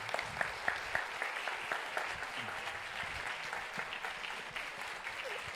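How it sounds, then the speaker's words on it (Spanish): Audience applause for Mario Iván Martínez after a masterclass, sustained clapping from a sizable crowd at moderate distance with a few sharper individual claps, no speech over it. "Un fuertísimo aplauso a Mario Iván, en verdad."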